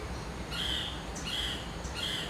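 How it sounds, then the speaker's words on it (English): Birds sing among trees, faint high chirps and whistled phrases repeating a few times over a soft outdoor background hush. "You hear the birds?"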